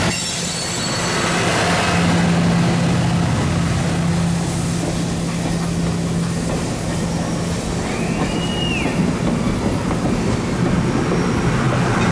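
Nickel Plate Road 765 steam locomotive rumbles steadily nearby, a continuous heavy roll with a low drone and faint clattering throughout.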